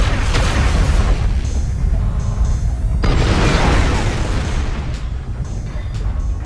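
A mech explodes in MechWarrior Online with a heavy boom, then a second big blast a few seconds later. Rumbling debris and crashing fill the space between and after them, loud and close.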